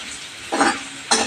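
Chopped onion sautés in a pan for a dhaba-style palak matar, a steady low sizzle broken by two louder scraping stirs, close by with no talk.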